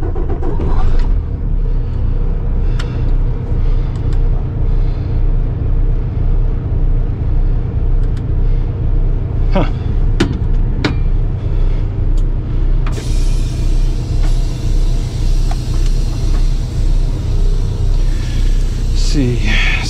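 A semi truck rumbles steadily through a warehouse yard, a continuous low engine drone with a few sharp hissing air-brake bursts midway and brighter road noise later on.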